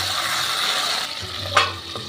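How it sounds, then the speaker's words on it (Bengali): Pabda fish fry in a pan with a dense, steady sizzle, then a single sharp clack as the pieces are turned over and the frying continues. "এক পিঠ মাছগুলো ভাজা হয়ে গেছে, আমি আর এক পিঠ উল্টে দিচ্ছি।"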